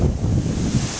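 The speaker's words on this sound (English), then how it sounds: "still very windy" Strong, steady wind from Hurricane Irene roars and buffets the microphone outdoors beside a maple tree, a continuous loud rushing with gusty swells and no rain.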